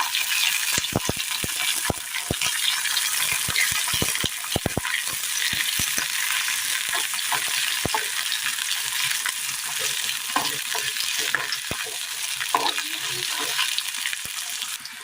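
Brinjal sautéing in a hot pan gives a steady broadband sizzle with frequent sharp scraping and stirring clicks, close and fairly loud throughout with no voices.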